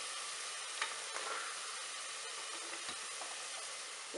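Ground masala frying with carrot, potato, beans and peas in a pan for vegetable biryani, giving a steady, close, continuous sizzle with faint stirring clicks and no talking.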